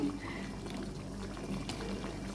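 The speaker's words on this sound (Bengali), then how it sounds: "আর অল্প করে এটা জল দিচ্ছি।" Water is poured in a faint, steady trickle into a pan of coconut milk fish curry, a soft continuous liquid sound over low kitchen background.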